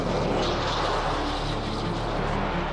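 Rocket engines roaring at a launch, a steady, loud, dense rumble that fills the whole stretch without a break.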